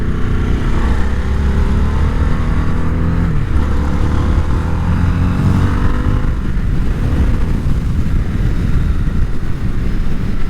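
A Harley-Davidson Sportster S or Indian Scout Bobber V-twin motorcycle in fifth gear pulls hard under throttle, its loud, close engine drone rising steadily with deep rumbling harmonics and wind roar throughout.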